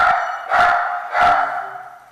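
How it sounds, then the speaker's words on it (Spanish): A dog barks loudly at close range, three sharp barks spaced about half a second apart over a steady tonal hum. "El perro mucho grita, ¿no?"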